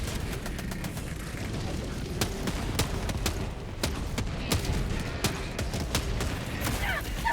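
Gunfire from Helldivers 2, rapid repeated shots cracking out at irregular intervals over a busy battlefield din, with a voice talking at times.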